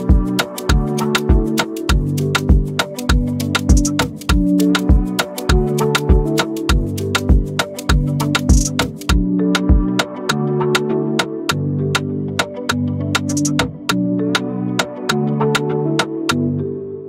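Ambient modern Afrobeat made in FL Studio 20 plays loud and steady, with punchy kick and percussion hits in a looping groove under layered melodic chords and textures, no voices.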